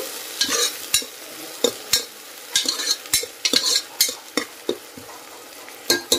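Tomato paste and biryani masala fry in a pan with kasuri methi, as a spoon scrapes and taps the pan in irregular strokes over a low, steady sizzle.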